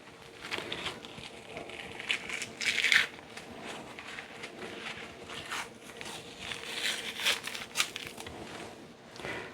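Paper towel crinkled and rustled by hand while pulling the membrane off St. Louis ribs, a busy stretch of dry crumpling and scratchy handling bursts, close and fairly loud, no speech.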